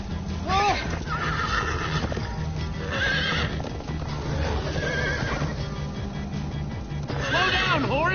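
Horse sounds in the video game Minecraft Story Mode: several shrill neighs and whinnies rise and fall over a steady patter of clip-clopping hooves, with game music and voices running underneath throughout.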